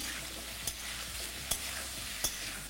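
Potato pieces fry in oil with turmeric and salt over a medium flame, a steady close sizzle broken by three crisp spatula taps.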